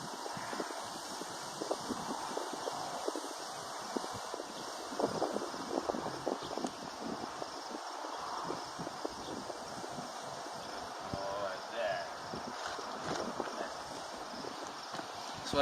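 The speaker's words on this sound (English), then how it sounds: "Really windy." Gusty outdoor wind buffeting the microphone with steady rumbling noise throughout, plus scattered thuds and light clopping of a horse nearby.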